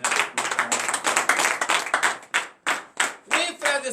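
A congregation claps in praise during morning prayer, bursts of rhythmic clapping that stop and start in uneven groups, loud and close, with some voices mixed in.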